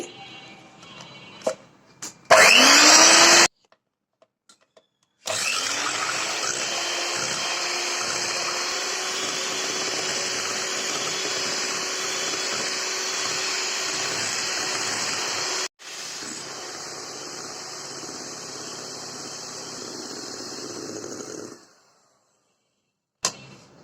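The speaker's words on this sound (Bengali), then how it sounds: "বিটার দিয়ে ডিমটা বিট করব আমি" An electric hand beater whirs steadily while beating eggs for a chocolate cake batter. A loud, continuous motor drone runs for about sixteen seconds and briefly drops in pitch partway through, with short clicks before it starts.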